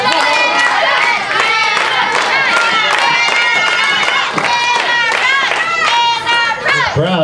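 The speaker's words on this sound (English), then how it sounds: "The crowd really getting behind Entapryze here tonight." Loud crowd at a live pro wrestling TV event cheering for the wrestler Entapryze, a dense continuous roar of shouts, claps and chatter filling the arena throughout.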